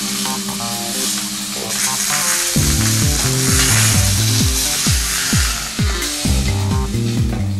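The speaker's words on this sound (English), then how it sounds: "Turn it over and brown the other side in exactly the same way." Meat browning in a Kuhn Rikon Durotherm pan, loud close sizzling with a run of regular knocks and scrapes as the pieces are turned, no talk.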